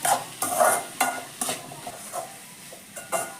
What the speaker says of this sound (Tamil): இங்கே சாம்பாருக்கு காய் வதக்கிட்டு இருக்காங்க.